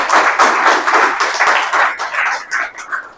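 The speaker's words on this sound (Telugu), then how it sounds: "నమ్మి విశ్వాసంతో చప్పట్లు." A church congregation claps together in a dense, steady burst of hand claps that thins into more scattered claps toward the end, loud and close.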